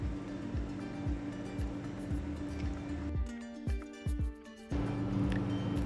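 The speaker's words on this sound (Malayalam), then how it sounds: "അങ്ങനെ ഓയിൽ ചൂടായി വരുമ്പോൾ നമ്മൾ ചിക്കൻ അതിലേക്ക് ഇട്ട് കൊടുത്തിട്ടുണ്ട്." Chicken fries in hot sunflower oil in a pan, making a continuous close sizzling hiss with repeated low knocks throughout.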